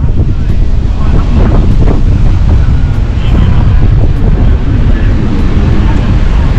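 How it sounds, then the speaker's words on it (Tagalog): Strong wind buffets the microphone in a continuous loud roar near trees at Agusan Marsh, with low rumbling gusts throughout and no clear talk. "sobrang lakas ng hangin dito"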